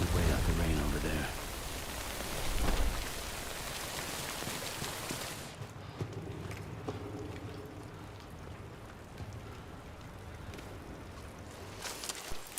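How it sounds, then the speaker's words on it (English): Rain falling in the video game Death Stranding, a broad hiss that is heavy at first, then drops to a softer, quieter patter, with a voice talking briefly over it. "We wait out the rain over there."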